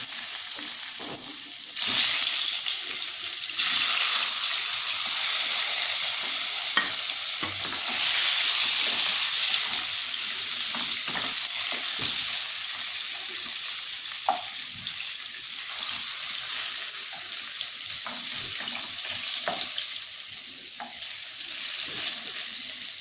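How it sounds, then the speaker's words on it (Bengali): Potatoes dropped into hot oil for a Bengali jackfruit curry, a loud steady sizzle and hiss close up, punctuated by frequent knocks and scrapes of a spatula against the pan. "তেল গরম হয়ে গেছে, আলুটা দিয়ে দেবো।"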